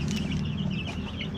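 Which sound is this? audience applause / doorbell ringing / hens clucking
hens clucking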